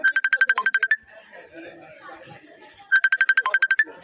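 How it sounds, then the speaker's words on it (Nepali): A mobile phone ringtone plays during an outing with friends at a snowy mountain spot in Brasov, Romania: two bursts of rapid, evenly pulsed electronic tones separated by a gap, with faint background chatter between them. "फोन आयो त"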